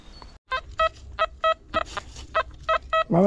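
Metal detector running the GM Power program during a dig in Poland gives a series of short harmonic beeping tones, about eight evenly spaced pulses over a few seconds, close and clear against faint outdoor background.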